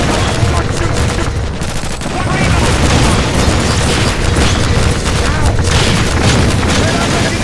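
Loud, dense gunfire and booming blasts from a hard-mode firefight in the video game Half-Life 2 Episode Two. The shots and explosions run continuously without a break, and there may be voices shouting underneath.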